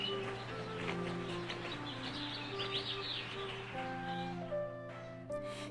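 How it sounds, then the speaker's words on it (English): Birds chirp and tweet in a busy outdoor chorus, several calls overlapping at moderate distance over a constant low hum. "Let's take a second and listen to the resident birds."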